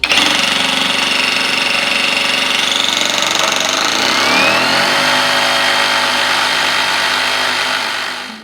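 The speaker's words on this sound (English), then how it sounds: "As the jigsaw feels the resistance of the material, it automatically increases to the optimum wood cutting speed" A cordless pendulum jigsaw cuts through wood with a loud, continuous high buzzing whine, steady and close for several seconds before easing off at the end, with no voices.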